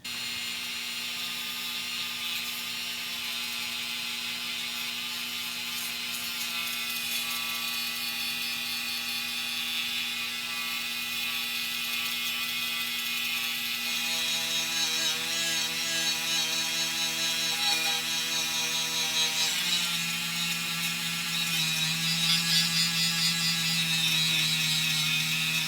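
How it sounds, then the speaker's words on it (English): A small flap wheel on a rotary tool grinds casting marks off a 1:64 diecast metal bus body, giving a continuous high whirring hum with scratchy abrasive rasping that shifts in pitch as pressure changes, heard up close and alone. "for that we're going to use the little flapper wheel that we used on the vet the other day"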